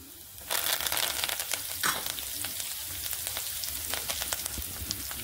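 Crushed garlic, cumin and chopped coriander hit a hot pan with a loud, sudden sizzle, then keep frying steadily under repeated stirring scrapes, close and continuous.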